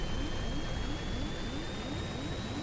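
Steady airplane engine drone in the survival game Stranded Deep as the plane goes down, a loud continuous roar with a high whine running throughout and no talk over it.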